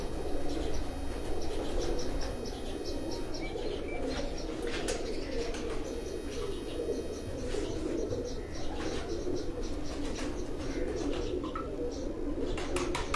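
Lakha pigeons coo in low, repeated murmurs on a rooftop under a busy backdrop of chirps and fluttering, the cooing steady throughout.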